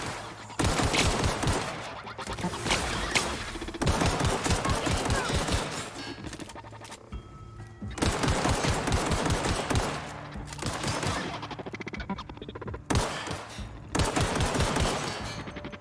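Rapid automatic gunfire rattles in long, loud bursts during a firefight in the video game The Outer Worlds, with short pauses between volleys.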